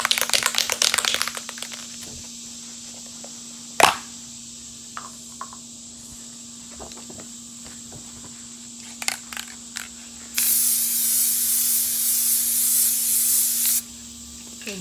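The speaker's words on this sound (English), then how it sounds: "I'm going to take this outside, and I'm going to spray it." An aerosol spray can lays a coat over a waterslide decal sheet for press-on nails, outdoors in the heat: a steady hiss of about three seconds near the end, after scattered clicks and handling noises.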